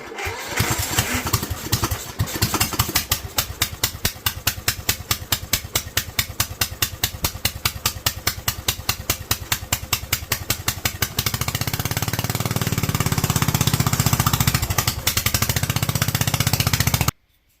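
A Honda GX390 small engine running lean at part throttle fires in a fast, steady, loud close-up putter, then shifts into a smoother continuous roar for the final stretch.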